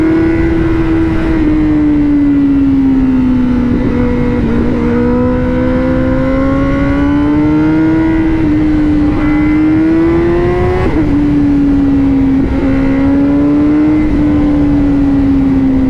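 Honda CBR1000RR-R Fireblade SP superbike accelerating, a loud, steady high-revving engine note close by that rises and dips through gear changes with no talk over it.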